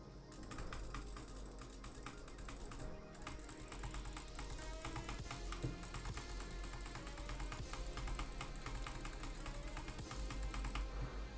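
Rapid, dense mouse clicking on a HyperX Pulsefire Haste during Minecraft PvP, a fast continuous clatter of clicks, close and fairly quiet, with no talk.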